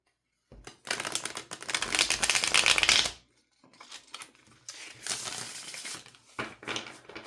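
A deck of tarot cards, already well worn from use, is shuffled by hand, giving two bursts of dense papery riffling and flicking that stop briefly in between. The sound is close and fairly quiet, with no one speaking.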